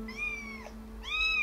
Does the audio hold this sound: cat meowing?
yes